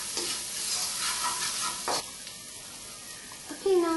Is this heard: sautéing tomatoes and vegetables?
yes